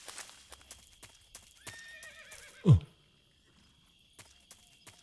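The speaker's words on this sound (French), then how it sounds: "un bruit de cheval" Horse in Metal Gear Solid 3 whinnying with a rising, wavering neigh, set among scattered hoof clip-clops and a sharp low thump, with a brief voice at the start.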